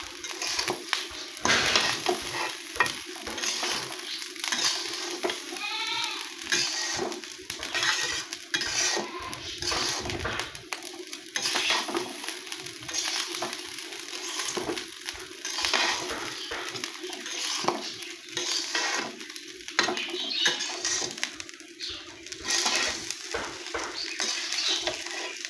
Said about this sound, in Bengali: এখন আমি সব কিছু একসঙ্গে মিশিয়ে নেব।